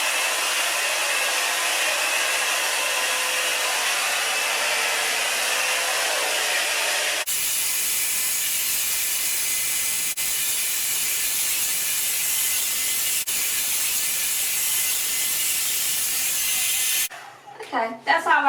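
A hair dryer with high, low and cool settings runs on cool, a loud steady broadband whoosh that carries on for most of the clip, then changes character and cuts off near the end with brief handling noise.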